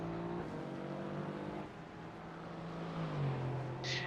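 Race cars battling around the Magny-Cours circuit, with engine drones rising and falling in pitch as they pass, heard at a moderate distance over steady background noise and without talk.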